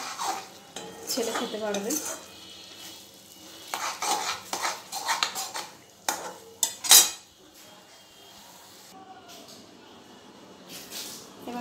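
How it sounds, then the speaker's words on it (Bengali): Leftover meat is reheated in a kitchen pan, with a metal utensil clattering and scraping as it stirs in irregular bursts and a sharp clink near the middle, while someone speaks briefly. "কালকের একটু মাংস আছে, সেটাকে গরম করে নিচ্ছি"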